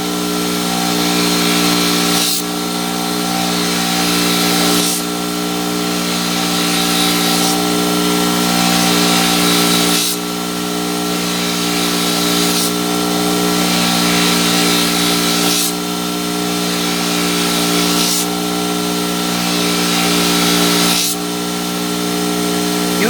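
Power sander working on stainless steel, a steady loud grinding whir with even tonal hum, broken by brief dips every few seconds as the tool is lifted and repositioned.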